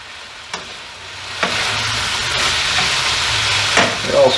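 Pancit noodles with cabbage and soy sauce being stirred in a hot pan, a steady sizzle with a few sharper scrapes and clacks of the utensil, close and alone without any voices.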